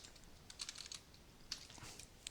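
Several light, irregular keystrokes on a computer keyboard while game code is typed into GameMaker, close and soft with short pauses between bursts and no talking.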